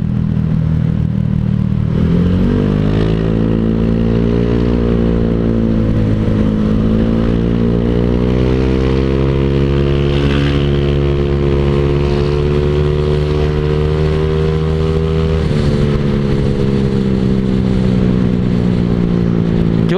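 A Honda Vario scooter fitted with an aftermarket open exhaust rides through heavy traffic. Its loud, steady engine drone runs throughout, with throttle changes near the start and again later in the ride.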